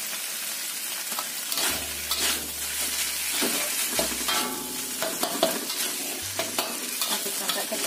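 A seasoned tofu mixture for mini tofu martabak sizzles and fries in a pan while being stirred, with steady close frying hiss, scraping stirs and a low hum underneath, and no talking.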